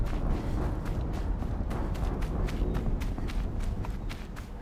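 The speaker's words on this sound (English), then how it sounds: "An explosion." An explosion in the video game Horizon Zero Dawn gives a loud, sustained low rumble with repeated heavy thuds pulsing through it, fading slightly at the end.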